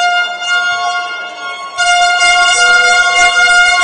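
A supporters' horn trumpet blares at an amateur basketball game, a loud steady brassy tone held throughout that swells louder partway through, with faint crowd noise beneath.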